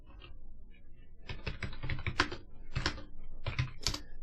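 Fast bursts of clicky keystrokes on a computer keyboard, typed in uneven clusters with short pauses between them, close and clear with no talking.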